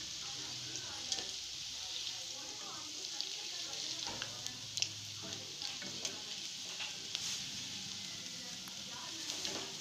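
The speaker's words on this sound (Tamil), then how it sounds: "லோ ஃப்ளேமில் வச்சு நல்லா குக் பண்ணலாம். நல்லா கிறிஸ்பியாக வரணும்." Cauliflower 65 (gobi) fries crispy in oil over a low flame, a soft even sizzle with occasional light taps and stirs, faint and steady throughout.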